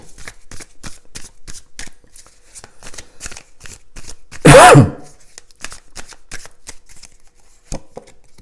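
Tarot cards being shuffled and drawn by hand: a steady run of light, crisp flicks, broken midway by one louder sweeping swish, all close and without talk.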